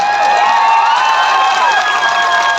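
Rally crowd at a political election event applauding and cheering loudly, a dense continuous wash of clapping and shouts with no pauses.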